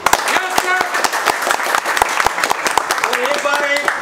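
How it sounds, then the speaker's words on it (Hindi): A group of students in a mobile repair training class applauds for a team with quick, irregular claps from several people nearby, and voices shout and cheer over the clapping toward the end. "और एक बार देव सर के टीम के लिए ताली।"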